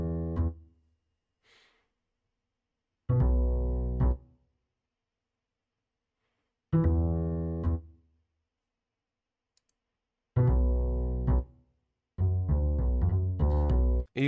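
A Jazz Upright bass sample from Contact Factory plays four short phrases of plucked low notes separated by silences, the last phrase busier with several quick notes; dry, close and alone.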